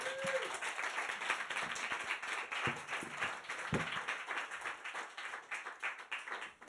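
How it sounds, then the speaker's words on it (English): An audience at an academic event on early modern laments gives presenters a round of applause, dense clapping that continues throughout, with a few louder individual claps near the start. "So a round of applause for our presenters."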